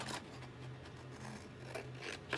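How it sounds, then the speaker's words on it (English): Scissors cut paper for a Victoria-style album page, giving quiet close snips and rubbing scrapes in a few short strokes, with no talking. "So just cut this down here."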